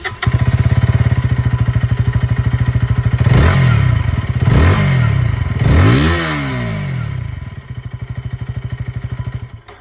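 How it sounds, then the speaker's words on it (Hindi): KTM Duke 160 with an underbelly exhaust, idling with a loud, fast thumping beat close by, then blipped through three sharp revs that rise and fall before settling back to a steady idle. "अब मैं आप लोगों को यहाँ पर जो ड्यूक 160 इसकी जो आवाज़ ये भी सुना दूँ"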